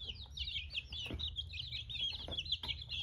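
Ten-day-old chicks peep in a quick, busy chorus of high chirps at close range, with low rumbling background noise underneath.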